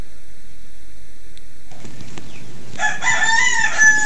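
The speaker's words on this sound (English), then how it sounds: "There's a little chickens, chicks. There's a small chicks around." Chickens and small chicks at close range, first quiet, then a burst of bright clucking and crowing-like calls in the final second or so, heard alone with no talk.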